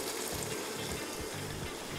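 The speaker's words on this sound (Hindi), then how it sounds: "बस मैं क्या करूँगा इसके अंदर थोड़ा सा पानी हल्का सा," Water is poured into chicken cooking in a pot for white biryani, a steady hissing, gushing stream lasting the whole moment, close and fairly quiet with no talk.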